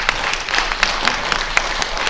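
An audience applauds during a talk on transparency and the death penalty, a short, fairly even patter of clapping with a few sharper claps standing out.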